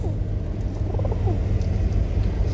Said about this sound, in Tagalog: Ang cute ng ating kalapati pero mabagsik